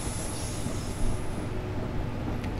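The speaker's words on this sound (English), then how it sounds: "It's arriving on the southeastern platform, which is not making sense." A train pulls into London Victoria in Train Simulator 2018, giving a steady low rumbling roar of wheels and motors with a faint high whine fading out.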